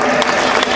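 An audience applauds singers at an orchestra show during a Saraswati celebration, a brief dense burst of crowd clapping, loud and steady, with voices mixed in.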